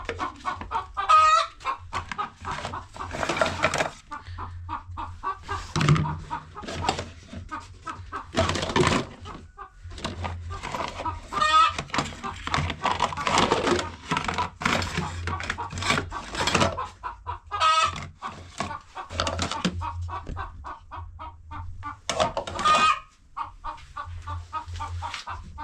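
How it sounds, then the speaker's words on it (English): Hens clucking in bursts of repeated cackles and squawks, close and fairly loud, with several birds overlapping and a low background hum. "the hen are making noise there."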